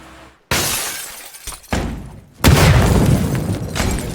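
In the video game PUBG: Battlegrounds, glass shatters loudly, followed by heavy thuds and a roaring burst of fire or explosion from a thrown molotov or grenade, with crashing debris continuing.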